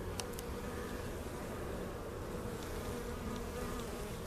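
Honey bees cluster on top of a sugar feeder inside a spring hive, giving a steady, dense buzzing drone that is continuous and fairly faint, with no voices.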